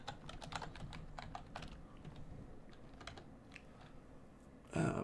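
Rapid keystrokes on a computer keyboard clatter in uneven bursts over steady background hum, closing with a louder thump.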